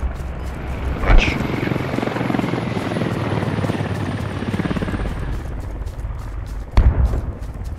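Helicopter in the military shooter game Squad, a continuous rotor thump passing close overhead, with a couple of sharp bangs at the start and near the end.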